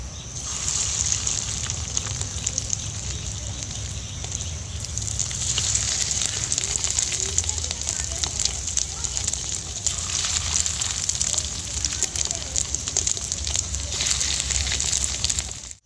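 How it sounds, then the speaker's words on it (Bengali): Fish egg fritters fry in a pan of hot oil, giving a continuous loud bubbling sizzle that holds steady close by throughout. "সব ডিমগুলো ভেজে নেব।"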